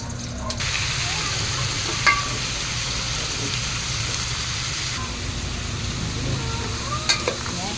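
Chayote stir-frying in a hot pan gives a continuous loud sizzle and hiss, with occasional scraping clinks of stirring, no voices over it.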